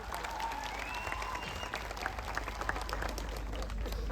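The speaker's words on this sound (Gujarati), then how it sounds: "એમને તાળીઓથી આપણે વધાવી લેવાના છે" A crowd at a political gathering in Rajpipla applauds to welcome the newly elected district panchayat president and vice-president. The clapping runs steady and dense through the clip, moderately loud with a few sharper claps.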